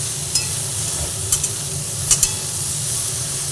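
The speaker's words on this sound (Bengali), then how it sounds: "এইভাবে নাড়াচাড়া করতে করতে গ্যাসের ফ্লেমটা কমিয়ে দিয়ে নাড়াচাড়া করে নিচ্ছি" Eggplant pieces in a fish-oil mixture sizzle steadily over a lowered flame while a spatula stirs them, with a few sharp clinks and scrapes against the pan.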